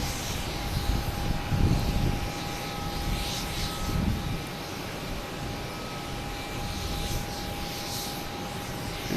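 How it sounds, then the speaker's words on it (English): A JetBlue Airbus A320 takes off at Boston Logan Airport, bound for Jacksonville, its jet engines producing a steady broadband roar with a fixed whine through it, a little louder early on and at moderate distance. "And we have JetBlue taking off, an A320 heading to Jacksonville."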